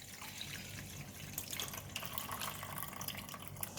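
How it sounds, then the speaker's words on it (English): Tap water running steadily over bean sprouts being rinsed in a sink, a continuous close splashing and trickling with small irregular drips and no talking. "And then we just rinse off the water."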